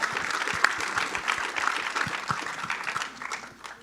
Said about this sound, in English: could we have a round of applause for Dr. Quarles?